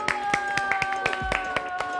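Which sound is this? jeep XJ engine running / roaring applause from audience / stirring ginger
roaring applause from audience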